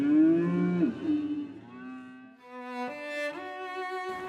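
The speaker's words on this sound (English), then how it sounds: "those are not just cows out in the pasture, they're cattle that he's raised" Cattle low in a South Dakota pasture, with two or three drawn-out moos near at hand, a long, deep call first and then rougher calls that overlap, without any talk.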